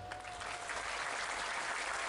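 An audience at a large outdoor religious gathering on Madura applauds, a steady, even wash of many hands clapping together with no breaks, heard at a moderate distance.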